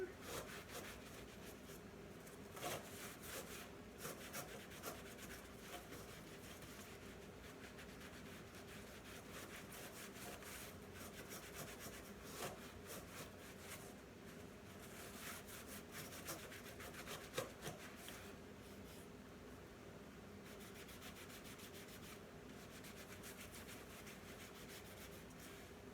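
Hand buffing of chalk-painted new wood being given a weathered, reclaimed look, heard as a steady close rubbing and scraping that runs throughout with small irregular scuffs.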